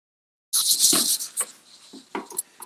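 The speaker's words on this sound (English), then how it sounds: "And that's my cat tearing up the sofa." A cat scratches and tears at a fabric sofa in a burst of sharp, close scratching strokes, loud and irregular, with short pauses between rips.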